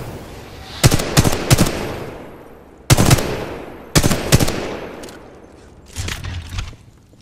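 Gunfire at a firing range in the video game Titanfall 2, short rapid automatic bursts separated by pauses, loud and close, with no talking.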